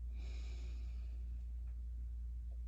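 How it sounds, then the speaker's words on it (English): A deep inhale through the nose during a power yoga breathing exercise, one long, airy, steady breath drawn close to the microphone over a low constant hum. "One more time, inhale in through the nose."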